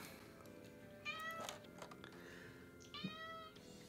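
A cat meows twice indoors, faint and plaintive, with a longer drawn-out call near the end over low room noise.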